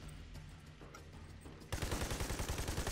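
Gunfire in the video game Army of Two: The Devil's Cartel, a quiet stretch that breaks into a loud, rapid automatic burst with rhythmic repeating shots through the last second.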